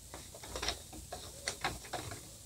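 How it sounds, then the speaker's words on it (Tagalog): Soft mechanical clicking and whirring from a Canon TS207 printer as paper is loaded, irregular rattles and ticks at low volume with no talking. "Lagay ako ng papel sa printer."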